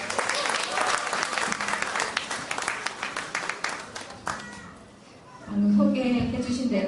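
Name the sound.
audience applause at a band concert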